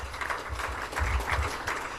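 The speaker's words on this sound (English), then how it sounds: "let's just give them one more round of applause." An audience at the Nulink Early Bird Forum claps for the title sponsor, a steady round of applause that stays fairly even for about two seconds.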